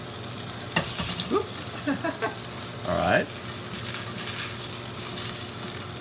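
Salmon sizzles in a hot pan as it is flipped, with scraping and knocking from the utensil over a steady frying hiss and a brief exclamation from a voice.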